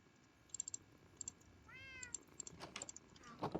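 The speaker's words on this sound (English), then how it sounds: "Cute cat." A Minecraft cat gives a single soft meow, rising and then falling, amid quiet game sounds and light clicking from a computer keyboard.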